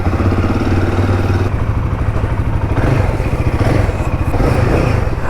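A motorcycle engine idles loud and close as it warms up, a steady, fast, throbbing putter that keeps on throughout with no break, ahead of a ride in wet monsoon weather.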